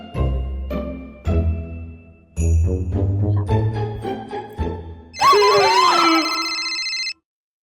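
A melodic electronic ringtone plays a series of chiming notes, ending in a bright, shimmering warble before cutting off; no talking.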